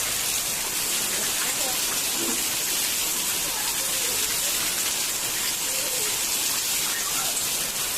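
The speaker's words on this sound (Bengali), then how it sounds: "বাইরেও বৃষ্টি, ঘরেও বৃষ্টি।" Rain falls outside a house and leaks indoors, making a constant dense patter and hiss throughout, steady and fairly loud, with no distinct voices.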